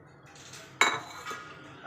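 Dry whole spices, black cardamom and star anise, drop into a pot of soaking chana dal with one sharp clink followed by fainter rattling, close and alone.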